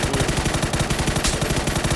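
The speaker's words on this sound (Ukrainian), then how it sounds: "Гранати кидають" Rapid gunfire and grenades in the video game PUBG: Battlegrounds rattle continuously in a dense, rhythmic burst, loud and close with a heavy low-end thump throughout.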